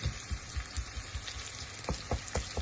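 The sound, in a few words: carrot and onion frying in a preheated pan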